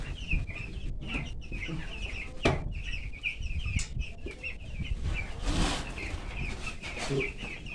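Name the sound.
chickens clucking in a brooder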